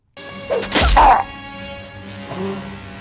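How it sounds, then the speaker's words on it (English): A pipe bomb goes off in a Nightmare on Elm Street horror film, a loud close whack and crash that rings out briefly and then fades into a quieter tonal tail. "She ends up blowing him up with a pipe bomb."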